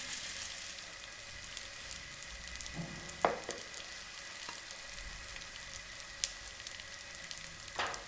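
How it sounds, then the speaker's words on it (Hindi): Vermicelli fries in ghee over a low flame, a faint, steady sizzle with a few soft clinks of a utensil against the pan, quiet and close with no voices. "सेवइयों को हम लो फ्लेम पे अच्छे से फ्राई करेंगे।"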